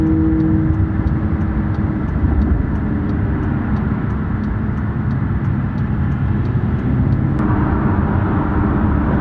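A Lamborghini supercar cruises along a highway in a group of supercars, its engine producing a loud, steady roar mixed with wind and road noise, continuous and close throughout.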